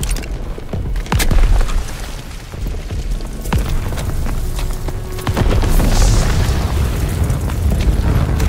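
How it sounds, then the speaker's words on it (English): Grenade explosion in a Call of Duty D-Day battle on Omaha Beach in 1944, a loud boom with sharp transients amid dense, continuous battlefield noise. "Lobbing a grenade."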